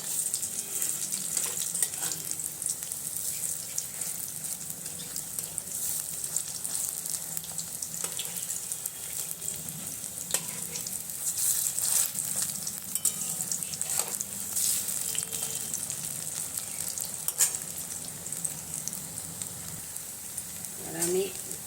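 Vadas frying in hot oil with a steady, even bubbling sizzle that runs the whole time, along with occasional clinks and scrapes nearby and faint background noise.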